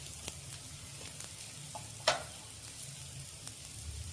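Onions fry in a pan for a paneer curry, a soft, steady sizzle with a few light clicks and scrapes from stirring, fairly faint and without talk.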